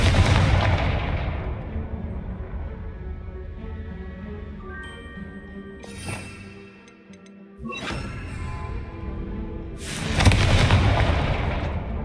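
The Confringo explosion spell in Hogwarts Legacy, heard as loud booming blasts with a rumbling, echoing tail, then a brief lull before another heavy burst near the end.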